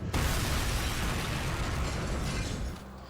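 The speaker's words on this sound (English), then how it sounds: "a massive hospital explosion" Hospital explosion scene from the TV drama Grey's Anatomy, a dense roaring blast rumble that fills the clip and then tapers slightly at the end.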